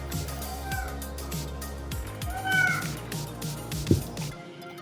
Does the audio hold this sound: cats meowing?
yes